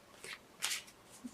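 Tarot cards being shuffled, two or three soft riffling bursts, quiet and close, with no talk.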